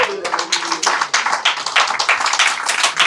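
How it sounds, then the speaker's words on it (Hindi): A church congregation claps in a dense, sustained burst of applause, sharp overlapping slaps filling the room for a few seconds, close and loud with no talk over it. "मैं चाहूंगा प्रभु यीशु मसीह के लिए आप एक बार ताली बजाएं।"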